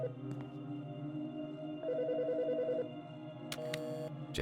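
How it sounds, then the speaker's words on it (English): A telephone ringing in Autopsy Simulator: a fast trilling electronic ring burst lasting about a second, then a shorter second ring, over a low steady hum in a quiet room. "now the phone's ringing"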